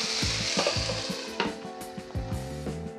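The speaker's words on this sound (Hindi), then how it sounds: "बस ये भी भुनने लग गए हैं" Mixed vegetables for dalia roast in a hot pan with a steady sizzle, punctuated by several sharp scraping stirs of a spoon against the pan.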